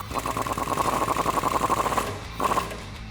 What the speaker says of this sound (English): take a 19mm wrench and a 19mm socket and just go ahead and tighten that down